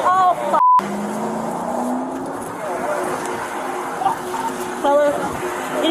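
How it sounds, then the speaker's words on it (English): A stolen police patrol car drives off after a crash on a road, its engine and tires giving a sustained roar, with a brief beep near the start and faint chirps later over constant road noise. "he just stole the patrol car"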